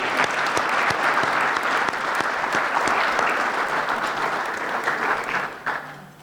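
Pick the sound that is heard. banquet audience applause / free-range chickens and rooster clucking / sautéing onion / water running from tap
banquet audience applause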